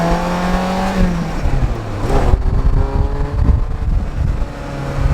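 A 40-year-old Ferrari 348 drives past loudly, its engine revving up and shifting through rising and falling pitch sweeps, then settling into a rough, gritty roar up close.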